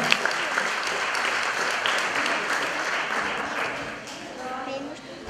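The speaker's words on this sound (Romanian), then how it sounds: "Să o aplaudăm și pe Pana Gabriela" Audience applauding a music student from a Bucharest music school at a 2013 award ceremony, a steady wash of clapping filling the room for about five seconds before thinning slightly at the end.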